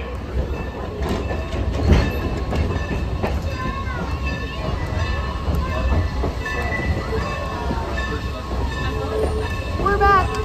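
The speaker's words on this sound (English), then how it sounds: "Back away from the train as it comes into the station." A train rumbles into a station in Strasburg, Pennsylvania with a steady low roar, squealing wheels and clattering over the rails, joined by some faint background voices.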